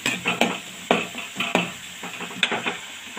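Onions sautéing in a pan for a prawn gravy, a soft sizzle broken by sharp, irregular stirring clanks of a spoon against the pan, close and without talk.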